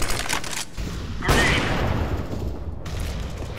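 Decoy grenade in CS:GO imitating gunfire: a loud burst of rapid shots, then a brief lull, then another sharp blast followed by sustained crackling fire in a busy game mix.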